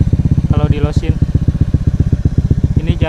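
A motorcycle fitted with a bobokan exhaust revs up close by, its deep pulsing thuds repeating steadily, with a brief higher burst partway through.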